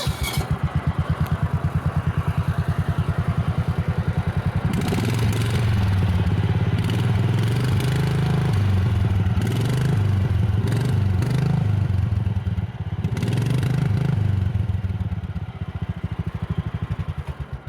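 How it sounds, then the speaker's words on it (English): A John Deere tractor with straight-piped exhaust chugging loudly and close, with rapid pulsing firing, stretches of heavier rough clattering revs and a return to steady idle. "Here's the John Deere after its transformation. That's the exhaust."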